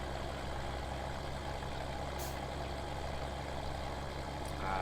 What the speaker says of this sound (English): this tractor is more than capable of pulling this cultivator